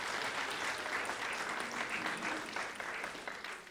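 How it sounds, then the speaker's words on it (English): Applause at a charity event: a dense, steady round of clapping from an audience that lasts several seconds and fades a little toward the end, heard faintly and from a distance. "so let's give them a round of applause."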